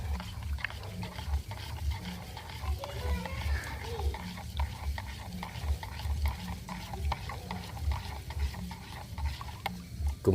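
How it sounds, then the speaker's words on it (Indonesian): Fungicide being stirred into water, two tablespoons mixed for a spray against anthracnose on chili plants, giving a steady scraping, swishing stir that carries on for the full stretch at close range over a low background hum. "2 sendok makan, diaduk dulu."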